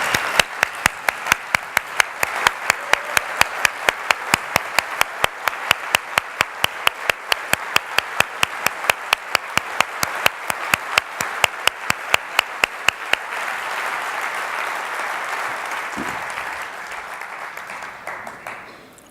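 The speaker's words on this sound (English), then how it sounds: "I would like the 300 to stand up, and let's give them applause." An audience of about 300 people claps at a keynote talk, with sharp rhythmic clapping and broadband applause for about thirteen seconds before it fades into diffuse noise.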